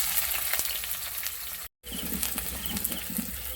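Bay leaf, garam masala and chopped onion frying in hot oil give a steady close sizzle throughout, broken by a brief silent gap midway, with faint stirring clatter.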